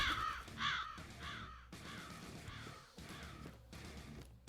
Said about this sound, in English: Probably some more birds up here.